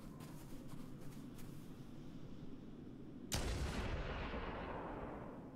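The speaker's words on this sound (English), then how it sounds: "Use our high-powered sniper rifle." Sniper rifle fire in Halo: Combat Evolved, with a low rumbling backdrop broken by one sudden loud, sharp shot that leaves a long booming decay.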